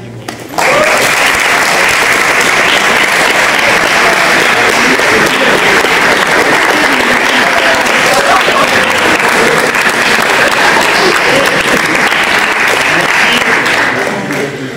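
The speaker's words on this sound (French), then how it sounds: "Ce que je vous propose, c'est déjà de vous applaudir." A large audience applauds loudly and steadily for several seconds after history thesis results are announced in a university class, a dense wash of clapping that rises suddenly and tapers off at the end.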